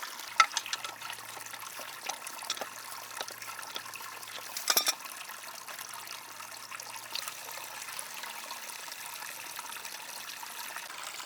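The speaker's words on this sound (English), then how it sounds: "pull this plug so that we can drain all of that water out of there" Water trickles and drains steadily from the drain plug of a pump system, a soft continuous dribble with a brief louder gush partway through, heard alone at close range.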